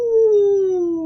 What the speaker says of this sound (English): Rex throws his head back and howls